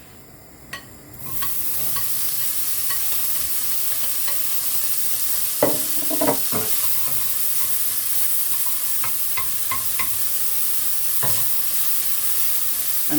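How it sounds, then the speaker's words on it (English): Bacon lardons frying in a pan over high heat, a steady loud sizzle running throughout with occasional crackles, spits and stirring scrapes close by. "Now the next thing we're going to do is put our bacon lardons into this pan"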